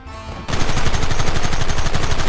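Loud, rapid machine-gun bursts in the Red Dead Redemption video game start abruptly and continue as a dense, sustained stream of rattling shots.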